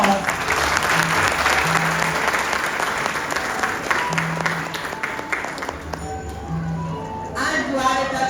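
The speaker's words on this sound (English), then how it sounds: "Everyone, please give the narrator a huge round of applause." A school audience at an Independence Day celebration gives a big round of applause for the narrator, steady dense clapping filling the hall before it thins out near the end.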